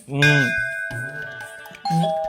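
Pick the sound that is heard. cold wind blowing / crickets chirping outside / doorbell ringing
doorbell ringing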